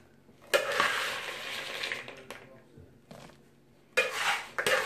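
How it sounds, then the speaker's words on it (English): A slotted spoon scrapes and clinks against a bowl while scooping sticky orange slice candy, with a long rustling scrape followed by a few sharp metallic knocks and another burst of scraping, close and moderately loud. "I'm going to take some of this candy. And I've got a slotted spoon"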